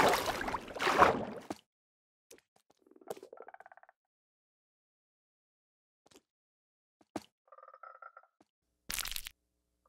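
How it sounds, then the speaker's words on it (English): Frogs in Minecraft give a few short, faint croaks with long silences between them, after a loud noisy burst at the start and before another sharp burst near the end. "the frogs are jumping around, very excited at their little offspring buddies here"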